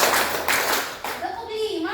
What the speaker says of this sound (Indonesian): Kalau serentak, tepuk 2, tepuk 3, tepuk 4